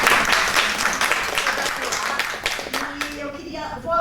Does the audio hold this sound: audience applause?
yes